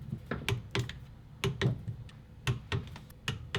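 Torque wrench tightening bolts on a 1994 Kawasaki KX250 dirt bike to 18 foot-pounds in a cross pattern: a series of sharp, close clicks in uneven bursts, some in quick pairs, with no talk.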